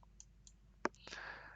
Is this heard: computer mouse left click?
yes